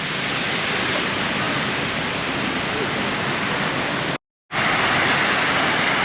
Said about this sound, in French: Petit jeu de fontaine.